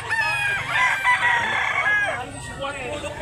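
Chickens at a chicken market in Cebu, with a rooster crowing loudly up close in one long, wavering call amid clucking and market background noise.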